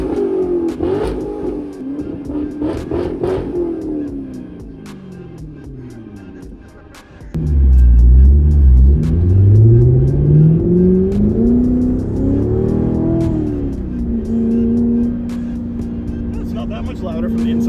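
A Corvette with a newly installed exhaust idles, then revs hard, giving a loud, deep roar that rises and falls and settles back to a rumbling idle. People talk over the start.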